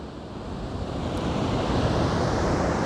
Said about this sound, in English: Maybe a few moments of directly looking into the beautiful ocean.